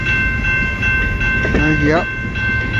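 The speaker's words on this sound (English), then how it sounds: "it's seeing M482 northbound train" CN M482 northbound freight train passing in South Rockwood, a loud continuous rumble of railcars with squealing wheel tones and a brief rising whistle-like sweep, one short spoken word over it.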